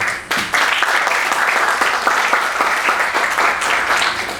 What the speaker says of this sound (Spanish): a cargo del doctor Ricardo González Vigil, para quien pido un fuerte aplauso de bienvenida